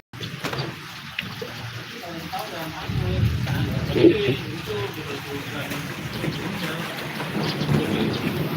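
Heavy rain roars steadily during flooding in Bekasi, Indonesia, with low rumbles of thunder rolling in partway through, while a voice speaks faintly beneath the downpour.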